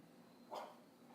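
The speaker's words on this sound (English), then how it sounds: "Sorry, that was my dog in the background." A single faint, muffled dog bark sounds from another room in a quiet home, brief and distant against a low background hum.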